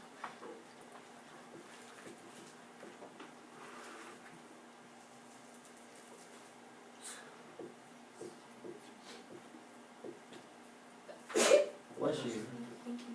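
A single sharp sneeze bursts out in a classroom during a lesson, loud and brief against quiet room tone with scattered faint scratching and movement.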